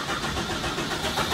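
A car engine starts cold, a steady, moderately loud mid-pitched rumble settling into a fast idle close by, with no talk.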